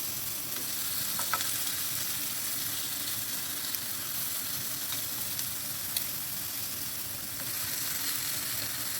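A tofu mixture sizzles steadily in a hot wok, a continuous frying hiss with faint crackles and stirring, holding an even moderate level throughout with no talking.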